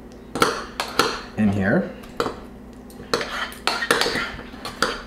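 Beans being spooned into a small glass bowl, giving a series of close clinks and scrapes of the spoon against the glass, with someone talking throughout.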